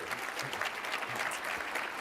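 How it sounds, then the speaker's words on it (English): An audience at a Canadian Club and Empire Club luncheon for the finance minister gives a round of applause, a steady, moderately distant wash of many clapping hands with no break. "a round of applause for those elements in particular"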